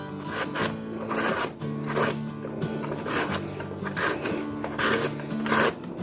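A peeler scrapes the skin off a cut ridge gourd in repeated short rasping strokes, close and fairly quiet, with a steady rhythm of several strokes per second and no talking.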